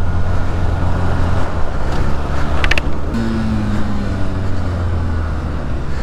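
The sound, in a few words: car overtaking in traffic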